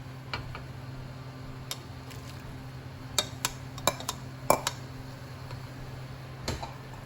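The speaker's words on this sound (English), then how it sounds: "Then you can now put back all of the mushrooms and carrots." Mushrooms and carrots go back into a pot of homemade spinach tofu: scattered light clinks and ticks of a utensil against cookware, faint and irregular over a steady low kitchen hum.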